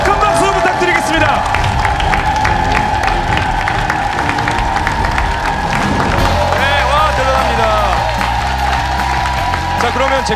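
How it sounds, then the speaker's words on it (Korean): Applause and cheering from a studio audience at the finale of a live SBS charity quiz show, a dense steady roar of clapping lasting throughout, mixed with music and some voices. "여러분 다시 한번 큰 박수 부탁드리겠습니다"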